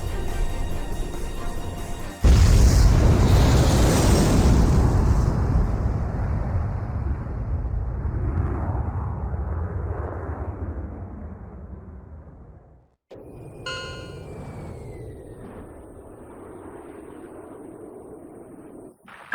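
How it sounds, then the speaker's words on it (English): A cruise missile slams into the mass driver in the Ace Combat 5 video game, setting off a loud, sudden explosion that rumbles and slowly fades, followed by a quieter stretch of mechanical hum and a high whine. "Mass driver hit by cruise missile."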